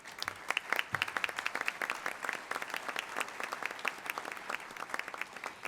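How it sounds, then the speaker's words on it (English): Audience applause for educators standing at a Kentucky Wesleyan College community breakfast event, steady dense clapping from a sizable crowd that holds throughout, moderately distant with no talk over it. "Can you please stand so we can give you a round of applause?"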